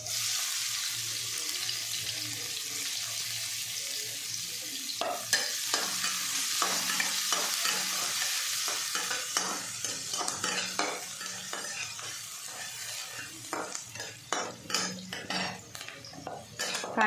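Onion being stirred and fried in a pan: a steady sizzle that gradually fills with rapid, clinking spatula scrapes and taps against the metal, close by with no talk.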